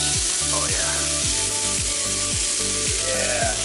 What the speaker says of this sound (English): Yeah, hear that sizzle.